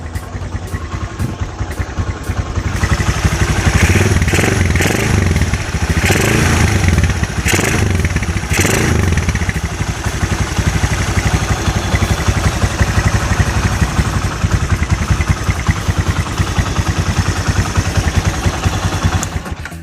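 A Honda CB100 motorcycle engine runs close by with a steady idle, rising into a few blips of revving before settling back, loud and alone with no talk.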